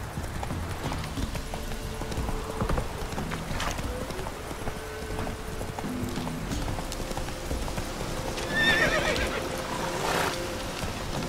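A horse in The Witcher 3 gallops with steady rhythmic hoofbeats, then gives a loud neigh near the end, with no one speaking.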